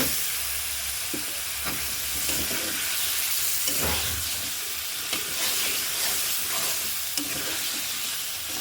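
Potatoes stir-fry in a pan, giving a dense, loud, steady sizzling hiss with a few soft scraping stirs beneath it.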